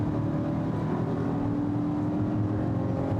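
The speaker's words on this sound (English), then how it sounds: "So let me go over to the sport mode here. I'm going to floor it for a second." A 2020 VW Atlas Cross Sport in sport mode under full throttle, its engine giving a deep, continuous droning hum heard from inside the cabin, loud and steady throughout.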